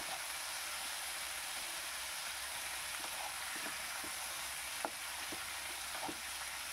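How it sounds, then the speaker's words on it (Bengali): Vegetables for chicken do pyaza fry in a pan with a steady, dense sizzle close by, broken by a few faint scrapes and clicks from stirring. No one speaks. "আমি ভালো করে এটাকে একটু ভাজা ভাজা করে নিচ্ছি।"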